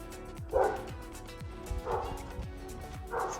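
A dog barks repeatedly outside in a suburban garden on the Sunshine Coast, giving several loud, close barks in short bursts spaced about a second apart.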